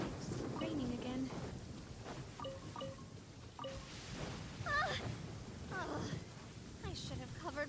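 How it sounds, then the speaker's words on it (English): Steady rain pours down throughout, with rumbles of thunder rolling underneath and voices talking over the downpour. "it's raining again."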